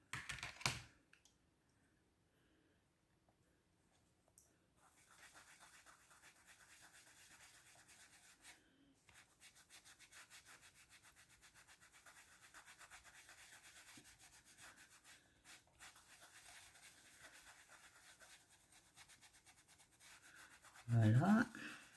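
Chalk rubs steadily across a surface with a faint, dry, scratchy sound that runs for over fifteen seconds and grows louder near the end.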